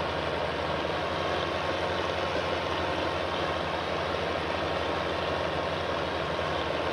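A John Deere 3020 tractor engine runs at a steady low idle, a continuous even rumble throughout with no speech.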